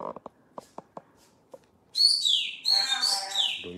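Pet birds chirp indoors in a room full of moving boxes, a few soft clicks and taps followed by loud, bright tweets and warbling calls close by, with no talking.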